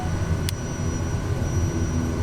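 A single-engine SWS Kodiak 100 turboprop idles steadily in a flight simulator, a constant low engine drone with a faint high whine. A brief soft click cuts in near the start.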